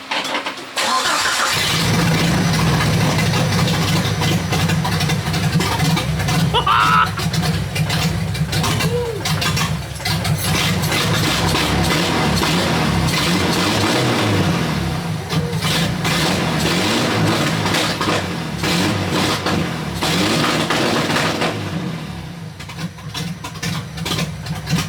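A Jeep TJ engine cranks and catches, then runs loud and steady at a rough idle for a long stretch with some fluctuation, close by, and a voice talks briefly under it.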